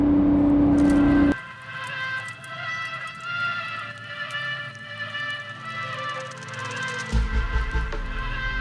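A Lamborghini Revuelto accelerates past on a road, its engine roaring loudly at first, then cutting to a quieter receding drone, before another loud burst of engine noise rises near the end.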